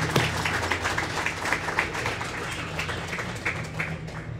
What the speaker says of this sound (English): That's a round of applause right there, please.